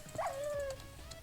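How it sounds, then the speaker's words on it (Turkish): A dog in the video game Minecraft gives a single short whining yelp, fairly faint over low game background noise. "Bu köpek çok hızlı vuruyor işte."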